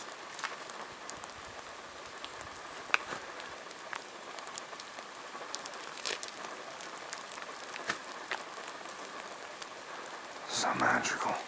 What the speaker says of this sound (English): You can hear the drops.